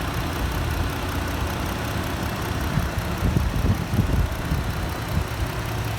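A 2020 Jeep Gladiator Rubicon Launch Edition with its 3.6-liter Pentastar V6 runs at a steady idle, a dense continuous rumble with a slight rise midway, close and with no talking.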